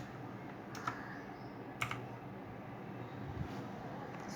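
Soft keystrokes on a computer keyboard tap out in a few scattered clicks over a low steady room hum, faint and unhurried, with no talking.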